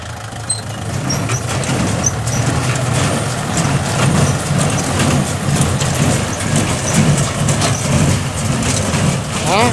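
A hay baler runs steadily at close range, its engine drone and mechanical churning continuous throughout with a faint rhythmic clatter; people talk quietly over it.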